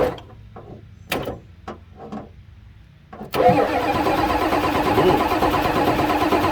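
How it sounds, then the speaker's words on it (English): A 1990 Ford F Super Duty with a 7.3 IDI diesel that sat for 15 years cranks in a few separate short bursts with pauses between them, then catches and settles into a loud, continuous, steady engine clatter. "we're gonna crank it over and we'll see if it cranks"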